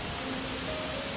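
Tibumana Waterfall in Ubud, Bali roars as a steady, broadband rush of falling water, loud and close, with no voices.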